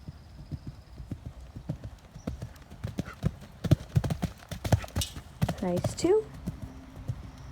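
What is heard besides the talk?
horse hooves cantering over a jump course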